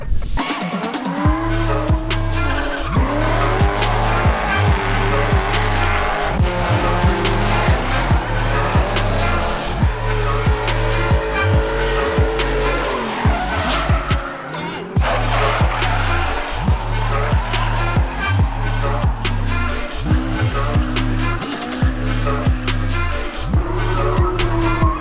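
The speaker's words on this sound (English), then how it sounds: "I'm going drifting." Drift car on a historic Pacific Northwest racetrack, a loud, close engine revving hard in repeated surges with sustained tire squeal and skidding throughout.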